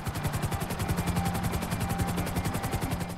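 A helicopter flies in the video game GTA V, its rotor producing a steady, rapid thudding chop with a constant engine drone, loud and close, with no talk over it.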